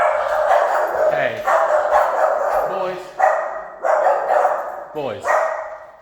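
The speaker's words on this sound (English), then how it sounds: "Got a package delivered, so of course the boys are gonna bark like crazy." Several dogs bark repeatedly at a package delivery inside a house, loud, close bursts in uneven volleys with a person talking over them.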